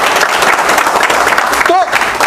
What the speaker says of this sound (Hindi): एक बार उसके लिए भी अलग से ताली बजा दो